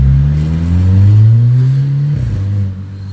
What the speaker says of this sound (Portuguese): O barulho do motor desse carro aqui ficou bem grave.